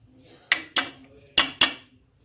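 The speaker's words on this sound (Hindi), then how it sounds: "अजवाइन को प्लेट में डाल देते हैं।" Strained carom seeds are knocked out onto a plate in four sharp metallic clinks, two quick pairs close together, each ringing briefly in an otherwise quiet room.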